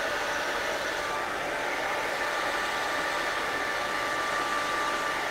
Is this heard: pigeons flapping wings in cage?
no